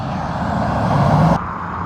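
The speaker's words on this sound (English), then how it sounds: "You're gonna hear a lot of cars coming." Traffic on a road heard while walking alongside it: a steady, close roar of a passing car swells and then cuts off abruptly.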